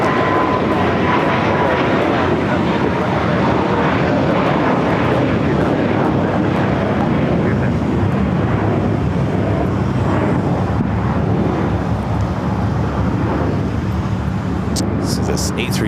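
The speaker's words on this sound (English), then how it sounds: "A350-1000 Flight 7 coming in from London Heathrow ahead to the north side gates of Tom Bradley" An Airbus A350-1000 jet airliner arriving at LAX from London Heathrow and heading to the Tom Bradley gates, its loud, steady engine roar sustained throughout with a voice talking over it.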